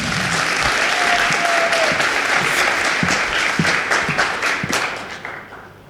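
Steady, dense audience applause welcomes Manuela Gatto in Tbilisi, a full room clapping loudly and evenly before fading slightly at the end.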